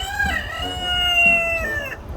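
A chicken calls loudly and close, a drawn-out, strained crow-like squawk lasting most of the moment, with faint background noise beneath.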